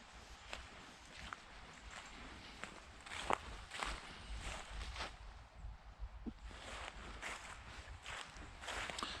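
Footsteps crunch at an even walking pace along a well-trodden riverbank path beside a canal feeder, fairly close and soft, with faint outdoor background noise.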